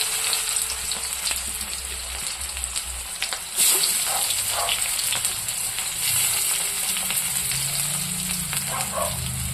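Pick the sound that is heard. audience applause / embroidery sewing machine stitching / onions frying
onions frying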